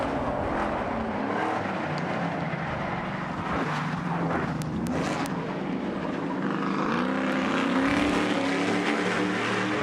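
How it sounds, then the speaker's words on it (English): Stadium Super Trucks roar around a Nashville street circuit, a constant loud engine drone from several racing trucks with rising and falling pitch as they brake hard for a corner, heard without voices. "And again, Gavin Harlan hard on the brakes down there"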